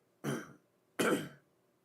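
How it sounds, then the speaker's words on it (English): Two separate throaty coughs, like someone clearing their throat, come about three-quarters of a second apart, each a short harsh burst, fairly quiet and close in an otherwise still room. "I did say I might be coughing a little"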